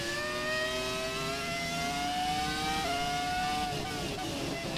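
Ferrari F2004 Formula 1 car in the F1 2017 racing game, its high-pitched engine wailing steadily and shifting through revs for several seconds, loud and close with no talk over it.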